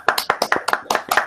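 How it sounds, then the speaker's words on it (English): Steady rhythmic hand clapping, close and fairly loud, in sharp evenly spaced claps from a small group in an audience, with no speech. "Round of applause, everybody."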